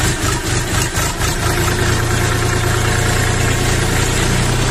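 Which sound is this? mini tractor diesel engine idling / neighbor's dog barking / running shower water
mini tractor diesel engine idling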